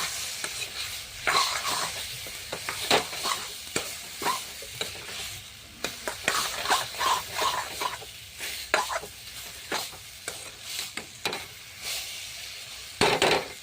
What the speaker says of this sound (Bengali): শাকটা দিয়ে দিলাম, এবার ভেজে নেবো ভালো করে।